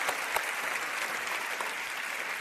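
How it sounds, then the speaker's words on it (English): A large crowd at the European Youth Event closing claps loudly and steadily, a dense, bright burst of applause sustained for the whole stretch with no voice over it. "Can I get a big hand of applause for yourselves?"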